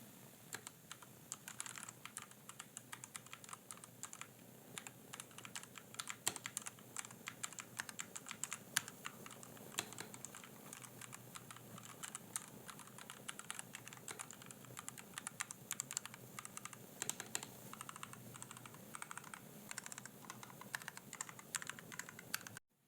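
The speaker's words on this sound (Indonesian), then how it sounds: "yang baru pertama kali coba mechanical keyboard" Steady, fast typing on a budget Fantech mechanical keyboard, with dense rapid key clicks continuing throughout at a fairly quiet, close level and no speech.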